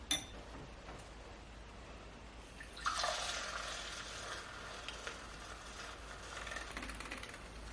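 A matcha whisk rinsed under a running tap: quiet room sounds at first, then a steady rush and splash of flowing water starts and carries on, close and fairly soft, with no voices.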